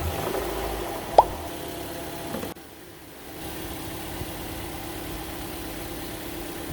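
A Mazda engine fresh from an oil change idles with a low, even rumble at moderate distance, broken by a short click and a brief dip partway through before the steady idle resumes.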